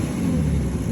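A diesel engine revs up and holds a steady, loud, deep rumble throughout a brief burst, with no talk.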